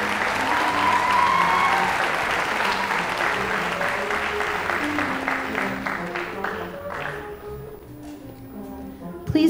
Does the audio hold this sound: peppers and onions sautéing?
no